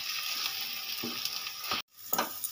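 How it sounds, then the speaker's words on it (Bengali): Potatoes and chopped green chillies are fried in a pan, with a steady hiss of sizzling that runs throughout, broken by a few scraping stirs and a brief pause before the frying resumes. "এই যে আলুটা ভালো করে কষিয়ে নিচ্ছে"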